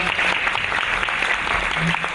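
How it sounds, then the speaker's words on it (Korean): Warm applause from an audience at a university AWS expo event welcoming speakers, steady clapping from many hands close by, with some murmured voices underneath. "따뜻한 박수로 모셔보겠습니다"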